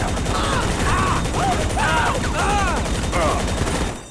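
A magazine dump in GTA 5 Online: continuous rapid gunfire, loud and steady for about four seconds, with chirping voice-like or game sounds over it before it tapers off at the end.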